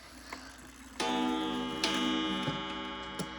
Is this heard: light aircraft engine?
no